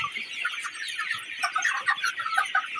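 Sonali chickens, 48 days old, clucking steadily on a poultry farm, a flock of overlapping cackles and short calls close by, with no talking.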